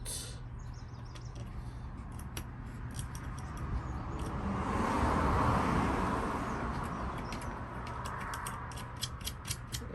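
Ratchet wrench with a socket loosening a bolt on a Toyota Tacoma during a phone mount install, a steady run of small metallic clicks over a faint background hum, swelling slightly midway.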